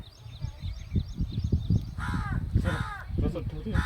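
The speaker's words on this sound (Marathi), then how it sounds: "कावळ्याचे किती काव काव चालले." Crows caw repeatedly in a noisy outdoor setting, several harsh calls overlapping with people talking nearby.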